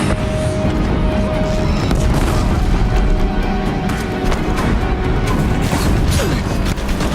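Deathbringer war machines fire in the Horizon Zero Dawn video game: loud mechanical clanking, heavy booms and crashing impacts pile up continuously over a deep rumbling battle din.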